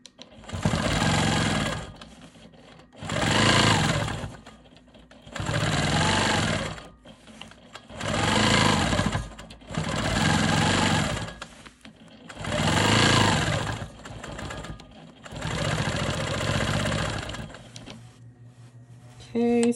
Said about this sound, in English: I'm just going to be quilting straight lines here to really accentuate this block.